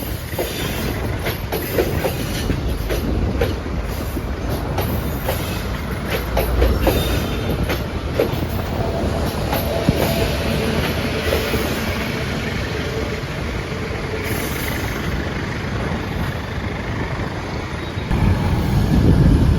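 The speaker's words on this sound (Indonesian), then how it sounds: "Momennya berbarengan kereta lokal dan kereta feeder meninggalkan stasiun Bandung" Local and feeder trains pull out of Bandung station together, a steady loud rumble of rolling rail cars with faint clickety-clack from the wheels and a brief swell near the end.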